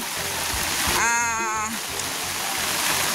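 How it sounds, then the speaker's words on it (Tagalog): Steady broadband rush of shallow mountain water flowing through a rice paddy, continuous and close, with a brief high tonal chirp partway through. "Galing po sa bundok yung tubig na yan na dumadaloy dito."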